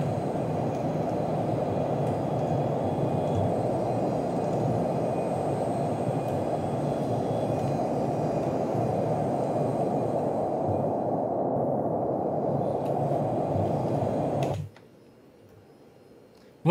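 A Cessna Citation CL560 business jet in the X-Plane 12 flight simulator gives a steady, loud, dense engine roar that holds for about fifteen seconds, then cuts off abruptly into near silence.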